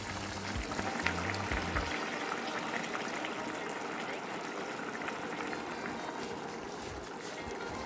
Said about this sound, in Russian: Добавляем приблизительно 300 мл воды.